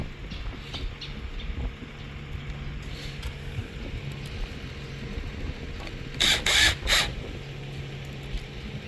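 Faint handling clatter, then two brief whirring bursts close by as a power screwdriver drives screws into a BK80/BK81 series multipurpose cabinet being assembled.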